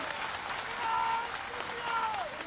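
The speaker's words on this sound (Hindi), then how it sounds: "ऐसी तालियां बजनी चाहिए पिपराई" Crowd applause at a political rally with Shivraj Singh Chouhan rises in a broad wash of clapping, swelling twice, with faint whistle-like tones riding over the noisy cheering.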